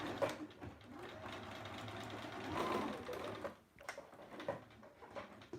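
A sewing machine stitches zipper pouches in a steady, close whirring run that pauses briefly near the end before restarting in shorter bursts.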